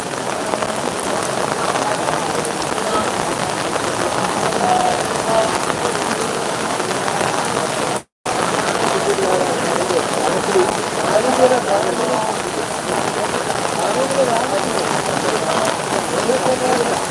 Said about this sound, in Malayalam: കൊട്ടിയൂരിൽ നല്ല മഴയാണ്